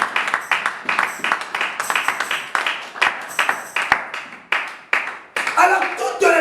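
A church congregation claps in quick, sharp rhythmic bursts while voices cheer and call out, the clapping close and lively in a worship service.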